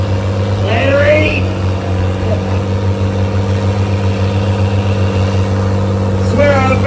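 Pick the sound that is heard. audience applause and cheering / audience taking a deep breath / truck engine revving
truck engine revving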